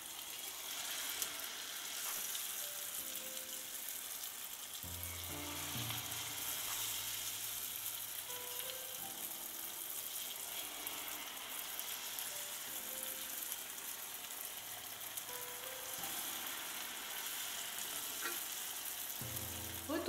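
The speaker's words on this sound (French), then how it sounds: "prenez un peu de pâte, tournez-la, voilà, comme ceci, et immergez-la dans votre huile déjà bouillante" Sicilian fritter (frittelle) batter frying in boiling oil, a steady, soft, even sizzle that runs throughout, with faint low tones humming in the background.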